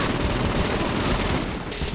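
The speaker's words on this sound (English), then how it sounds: "I'm shooting them in the head" Rapid, dense gunfire from the video game Saints Row IV rattles without pause, loud and close, in continuous bursts.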